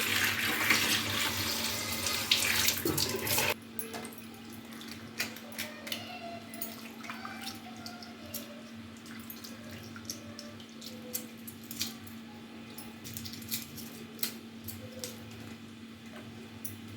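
Water runs from a tap into a kitchen sink during home cooking of an egg curry, a dense rushing splash for about three seconds, then quieter drips and small clinks against a low steady hum.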